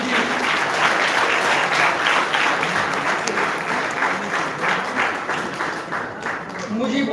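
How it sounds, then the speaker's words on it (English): A school audience claps for a commerce student topper at a felicitation, the sustained, dense applause filling the hall steadily for several seconds. "Give a big round of applause to Mujib."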